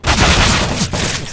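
Close, loud rapid gunfire in a CS:GO match, a dense burst of shots rattling out over just over a second with no one talking.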